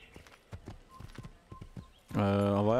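Horse hooves clip-clopping in the Assassin's Creed video game, a series of separate hoof strikes at a walking pace, with a loud horse whinny at the end.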